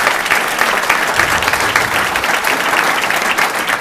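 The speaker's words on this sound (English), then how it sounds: "All right, give her a big round of applause." Steady, loud applause from an audience at a city council meeting, honoring a student award winner who has just come forward; dense clapping fills the whole stretch without pause.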